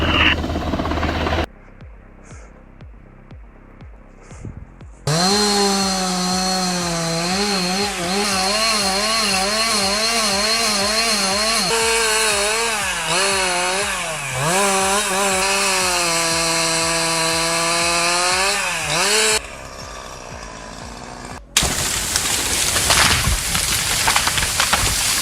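A chainsaw runs steadily while cutting a tree during logging, its engine note rising and falling as the throttle changes, loud and close for about fourteen seconds, with other rough noise before and after.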